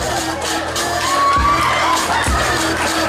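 A crowd at a comedy hypnosis show in Yamba cheers and whoops loudly, with shouts and a couple of sharp bangs over a steady roar of noise, and no spoken words.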